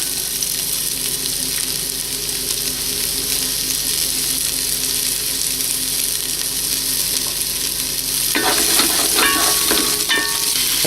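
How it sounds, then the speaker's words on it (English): Vegetables sautéing in a Dutch oven after browning beef, a constant close sizzle that grows louder and busier near the end as stirring scrapes and crackles join in. "Then we're going to proceed to saute our vegetables."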